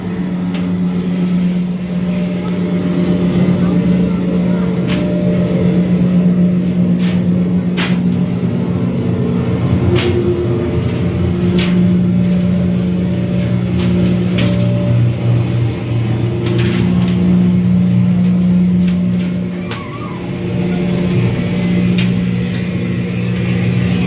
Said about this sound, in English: Jacob, you're going to have to start up the motor. It's going to be loud, but you're going to start it up